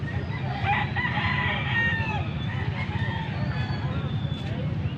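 A gamecock crows amid a busy outdoor poultry market in Pampanga, with clucking fowl and background chatter forming a steady, noisy backdrop.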